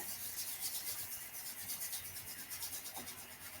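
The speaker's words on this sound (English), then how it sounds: "We're just going to rub our hands together." Hands rubbing together during a qigong meditation exercise, a steady soft dry friction hiss lasting a few seconds, close and quiet with no talking.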